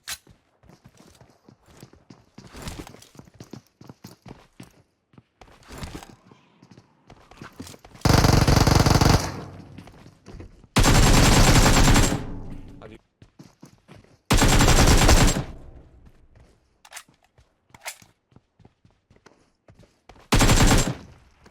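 Gunfire in the mobile battle-royale game PUBG Mobile, several loud sustained bursts of automatic fire about a second or two long, separated by quieter stretches of footsteps and scattered single shots, with players talking throughout.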